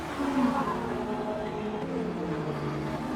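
Modern sports GT and sport compact race cars run down the straight at Catalunya in a racing game, several engines droning together with pitches sliding downward, moderately loud and continuous.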